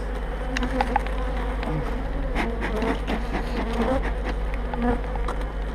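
Honey bees in a very strong, populous colony hum at an open hive during a spring inspection: a dense, continuous buzzing close by, with individual bees whirring past over the steady drone.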